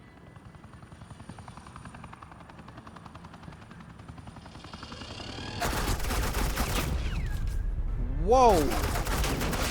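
Suppressing gunfire in Batman: The Telltale Series erupts as dense rapid bursts over a steady helicopter drone, loud and close, with a startled voice exclaiming between the shots.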